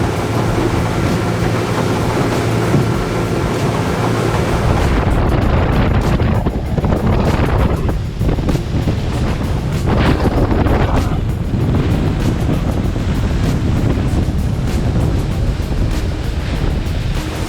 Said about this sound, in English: what would you claim that gusting to, Barty?